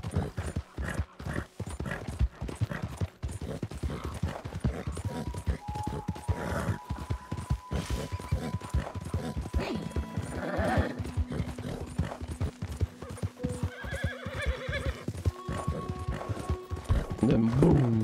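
Hooves clip-clop at a steady walking rhythm on a horse in Red Dead Redemption 2, with a brief whinny-like call, running through most of the stretch under a voice and game music and effects.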